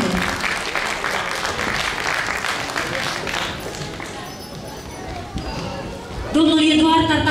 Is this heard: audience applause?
yes